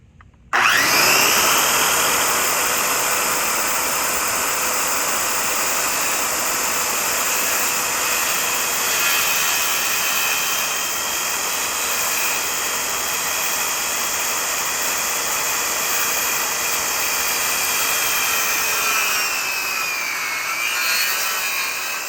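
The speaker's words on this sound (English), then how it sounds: "So watch how my saw goes." A hand or power saw cuts a bevel-angled piece of wood for a foldable sawhorse, a steady loud whine running unbroken for about twenty seconds at close range with no talk over it.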